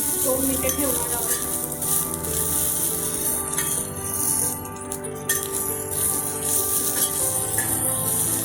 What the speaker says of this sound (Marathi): लसूण पण चांगलं भाजलेलं आहे.